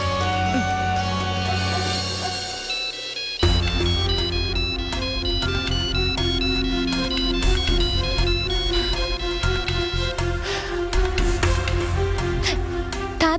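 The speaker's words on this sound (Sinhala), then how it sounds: "තාත්තා මගේ යාළුවෙක්ගෙන් කෝල් එකක්." A mobile phone ringtone for an incoming call plays loud and steady, a repeating bright electronic melody that continues throughout with a brief low rumble underneath at the start.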